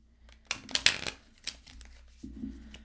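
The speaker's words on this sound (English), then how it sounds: "I'm just going to shuffle a couple more times" Tarot cards are shuffled close by in a quiet room, with soft crinkling riffles and scattered papery slaps over a few seconds.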